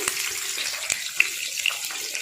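Onions frying in hot oil in a pan for spicy mutton chukka, a steady close sizzle with a few sharp crackles and pops, no voices.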